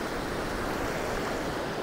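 Floodwater of the San Lorenzo River at 21 feet, rushing past Paradise Park in Santa Cruz, California, a steady dense roar of churning water with some wind buffeting the microphone throughout, no voices.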